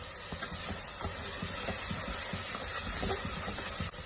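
Tomatoes are added to ginger garlic paste frying in a pan, giving a steady, close, loud hissing sizzle that runs throughout with small crackles.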